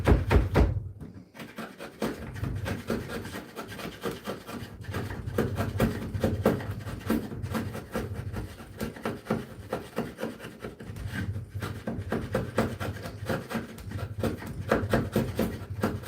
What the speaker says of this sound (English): How do you sharpen a chisel like that? Gotta use a flat stone.